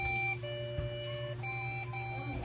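Repeated electronic beeping comes from a Lenovo Slim desktop PC with a memory fault that shows no display. Tones cut in and out in a pattern over a steady hum, close and fairly loud.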